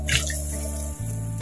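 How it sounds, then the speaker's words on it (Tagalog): Water being poured into a pan of pancit bato during cooking, a steady trickling flow with faint dripping and a low hum underneath, ending in a brief louder splash. "Lagyan na po natin ng tubig."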